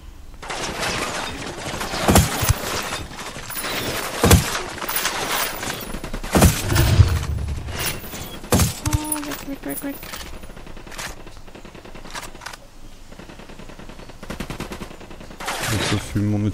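Repeated rifle shots and short bursts from soldiers in the game Ghost Recon Wildlands, sharp cracks spaced through the scene with a few louder booms, over a quieter background of game ambience.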